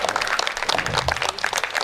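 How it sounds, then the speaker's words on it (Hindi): An audience at a Hindi poetry gathering gives a poet a dense burst of applause, many hands clapping together loudly and evenly throughout the short moment. "एक बार इनके लिए बहुत अच्छी तालियां बजा दीजिए।"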